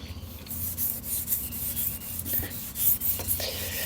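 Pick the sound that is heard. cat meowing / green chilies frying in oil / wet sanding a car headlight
wet sanding a car headlight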